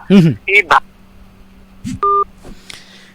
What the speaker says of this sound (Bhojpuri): फिर से फोन डिस्कनेक्ट हो चुकल बाटे